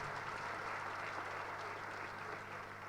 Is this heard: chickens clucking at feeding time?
no